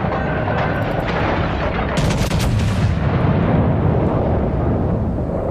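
Naval guns firing on an enemy warship in World of Warships, a dense stretch of loud booming salvos and rumbling cannon blasts with sharp cracks layered over continuous low battle roar.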